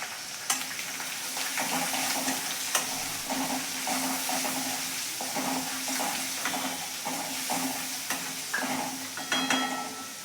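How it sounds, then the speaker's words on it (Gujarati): Curry leaves, a dried red chili broken in two and bay leaves crackle and sizzle in hot oil, a steady close frying hiss with sharp pops and spatters throughout, no voices. "હવે અહીંયા આપણે લીમડો નાખી દઈશું."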